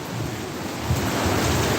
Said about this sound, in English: More just the wind.